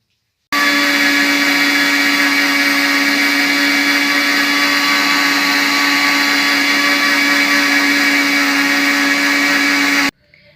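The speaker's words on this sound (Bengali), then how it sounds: "আমি এটা মিক্সিতে গুঁড়ো করে নেব" A mixer grinder powders semolina in one loud, unbroken whirring whine that starts abruptly after a brief silence and cuts off sharply near the end.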